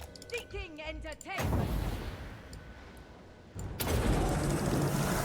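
Enemy units shoot in a Dark Elf fantasy battle game, a voice talks at the start, then dense crackling gunfire swells in two loud sustained bursts.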